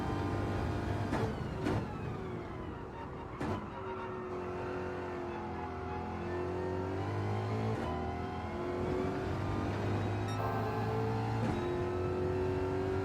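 A race car engine revs and shifts gears during a GR4 touring car lap at the Nürburgring GP circuit in Gran Turismo, a loud continuous drone rising and falling with a few sharp gearchange blips.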